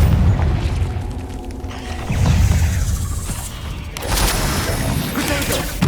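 A Confringo fire spell explodes in Hogwarts Legacy: heavy, loud booming blasts with deep rumbling tails and crashing debris, several bursts in quick succession with a whooshing rush.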